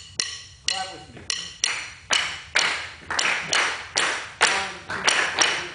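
Hand claps beat out a clave rhythm during an African drumset clinic, roughly a dozen sharp claps in a steady syncopated pattern, close and loud with no talking.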